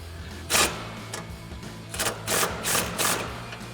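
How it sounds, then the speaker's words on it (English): Ratcheting clicks from a 10mm swivel socket on a long extension reinstalling a bolt on a RAM 2500 headlight, with several quick close bursts in an uneven rhythm over low background hum. "we're going to reinstall that bottom 10mm bolt, again with our long extension and 10mm swivel socket"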